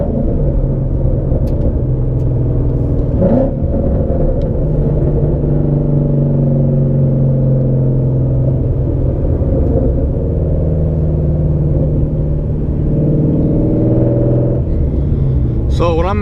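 A Ford Mustang GT with a cam tune rumbles steadily from inside the car, its deep lumpy idle and low drone shifting pitch as it downshifts, with a brief rev swell near the end.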